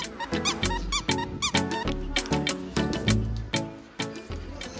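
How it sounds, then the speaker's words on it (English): Crinkly rabbit dog toy from Wainwright's squeaking repeatedly in quick, irregular bursts close up, with crinkling rustle in between and no speech over it. "these Wainwright's rabbit toys. They're all crinklies, but they like them sorts of noises, as you can see."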